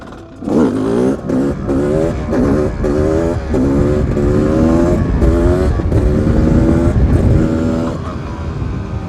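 A 300cc motorcycle revving hard during wheelie practice, loud and close, with the engine climbing through repeated rising surges and gear changes.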